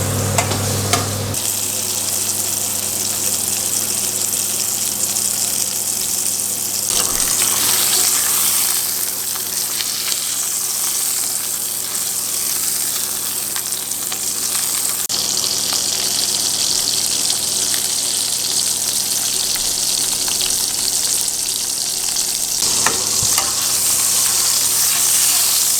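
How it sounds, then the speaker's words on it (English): Duck breast fries in its own rendered fat in a frying pan over low heat, giving a steady, close sizzle and crackle that continues throughout, with occasional louder spits. "The duck breast has been cooking in the frying pan for about 10 minutes."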